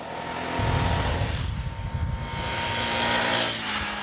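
A 2000 Cagiva Gran Canyon motorcycle with a six-speed gearbox accelerates hard, its engine rising to a loud, sustained roar that swells and holds close by.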